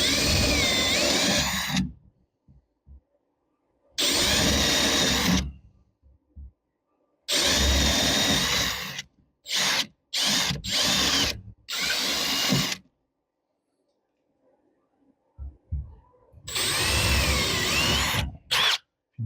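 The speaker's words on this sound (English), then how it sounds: "if you drill opposite corners like this, I just drill one at the corner, one away from it" Bursts of a power drill bore holes at the corners of a wooden box for a bar build, each run lasting one to two seconds, loud and close, separated by silent pauses.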